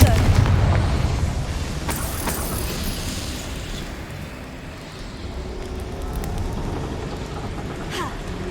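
A Confringo explosive spell blasts in Hogwarts Legacy, a dense rumbling boom with crackling debris that rolls on as a steady noisy wash and swells again near the end.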